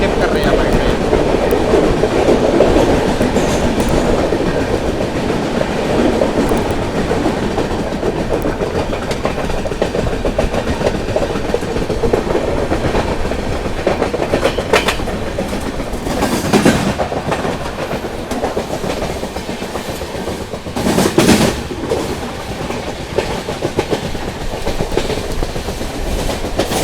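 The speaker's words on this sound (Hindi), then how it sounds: "प्लेटफॉर्म नंबर 2 से हारदा को स्किप कर रही है हमारी ट्रेन।" Banaras SF Express passing through Harda station without stopping, heard from inside a 3rd AC coach: a loud, continuous rumble and clickety-clack of wheels on rails that runs for the whole stretch, with a brief burst of louder clatter near the end.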